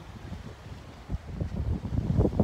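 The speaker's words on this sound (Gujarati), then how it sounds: "પવન મસ્ત આવે છે, જેટલી ગરમી ખાધી ને એટલો ઠંડો પવન આવે છે." Cool wind gusts across a high lookout above Miramar beach in South Goa, a rough rumbling buffet on the microphone that grows stronger toward the end, with no one talking.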